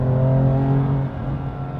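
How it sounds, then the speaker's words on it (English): A 2019 BMW M2 Competition accelerates hard, its engine giving a loud steady roar heard from inside the cabin that eases slightly partway through. "the car will absolutely move out in a hurry and take off"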